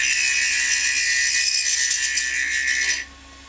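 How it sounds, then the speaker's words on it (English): High-speed steel tool cutting brass on a wood lathe, a bright, steady, loud high-pitched cutting whine that holds for about three seconds and then stops abruptly, leaving the low hum of the machine. "a high-speed steel tool is harder than brass, and it'll cut it very nicely"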